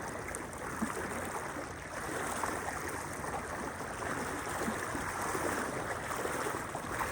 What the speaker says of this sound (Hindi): उधर भी सामने भी तेज आ रहा है पानी, देख रहे हो